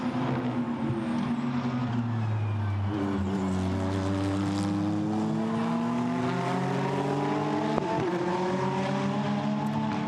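GT race cars with a Honda leading at Misano in a Blancpain GT Sports Club race scream past in a continuous engine roar, pitch climbing and dropping through gear changes, loud and steady throughout with no talking.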